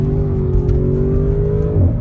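An Audi RS6 Avant on winter tires pulls hard along a snowy winter road, its engine note climbing steadily in a smooth, loud rev that dips briefly near the end as it shifts.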